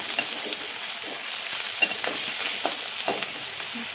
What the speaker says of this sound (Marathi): आता याच्यामध्ये आपण ठेचून घेतलेला लसूण टाकूया। हे पण परतून घ्यायचं आहे।